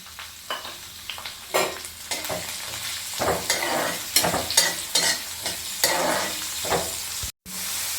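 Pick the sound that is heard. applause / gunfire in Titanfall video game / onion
onion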